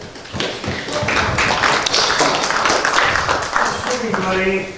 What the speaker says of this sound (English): That was the sound of applause for Vilmos Foldish